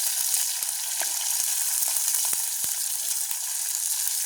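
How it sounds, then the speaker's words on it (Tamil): Cut okra, fennel seeds and chopped chilies fry in hot oil in a pan for a village-style dish, with a steady, close, loud sizzle and scattered pops and crackles throughout. "வெண்டையா பெருஞ்சீரகம் அதோட வெட்டி வச்சிருக்கிற மிளகாயும் போடுவோம்"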